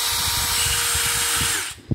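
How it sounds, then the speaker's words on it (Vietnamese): A DeWalt 12V three-function cordless drill runs steadily at close range with a constant high motor whine, then cuts off near the end, leaving a brief soft knock. "con này là một con khoan 3 chức năng của dòng 12V DW"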